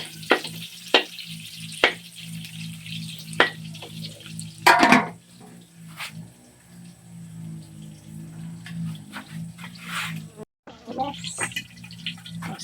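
Meat frying in oil in a pot, with a soft steady sizzle, clattering stirring knocks and occasional sharp clanks up close, and voices talking intermittently over the cooking.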